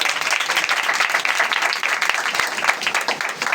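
A church audience at a pastor's sermon breaks into loud, dense applause that stays full and continuous for the whole few seconds.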